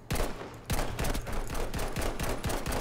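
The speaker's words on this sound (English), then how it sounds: "I'm just spam firing instead of actually killing him" Rapid automatic gunfire in the video game Battlefield 5 during spam firing, a loud close continuous stream of evenly spaced shots after a brief initial burst.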